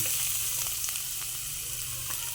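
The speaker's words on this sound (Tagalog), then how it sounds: "maglagay na tayo ng bawang" Garlic and onions frying together in hot oil for pork humba give a steady, close hiss and crackle, with a few faint clinks of stirring and no speech.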